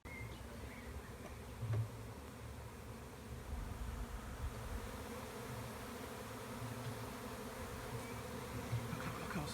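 Bees from a nest lodged in part of a house make a steady, continuous buzz, close and fairly loud, with no talking.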